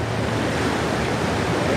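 Open-ocean waves roll in and break on a Hawaii surf beach, a steady close wash of surf and wind noise with no talk.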